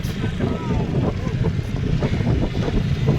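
Rough sea churns and roars under strong wind, a dense continuous rumble of waves with wind buffeting the microphone and no break across the stretch.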